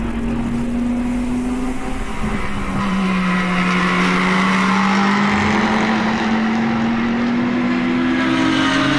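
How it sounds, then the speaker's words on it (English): GT race cars at speed on the Autodrom Most circuit, with a loud, steady engine drone and a slowly rising and falling pitch as cars pass through a section, continuous throughout with no talk. "here is car number 22 making the move on car number 26"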